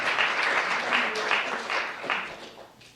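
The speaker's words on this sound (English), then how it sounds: "Give them a big round of applause." Crowd applause at a Samvada gathering, a dense wash of many hands clapping steadily for about three seconds before thinning and fading at the end.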